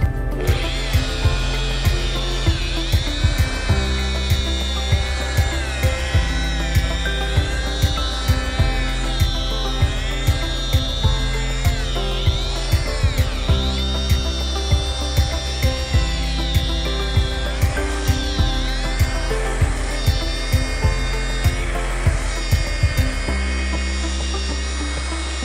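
Rotary polisher spinning at around 2,000 RPM, buffing with 3M purple Trizact finishing film and compound, a steady loud whine with wavering harmonics running continuously throughout.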